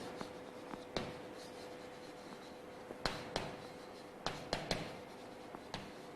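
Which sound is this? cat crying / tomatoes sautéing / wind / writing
writing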